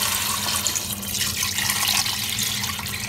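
Water being poured over sautéed spare ribs in a pot for Filipino sinigang, a steady, close splashing rush that runs unbroken for a few seconds, no talking.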